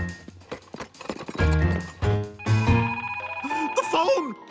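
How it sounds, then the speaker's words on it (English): A telephone rings in a cartoon scene, its bell trilling among music and busy sound effects, with a voice heard over the ringing. "The phone!"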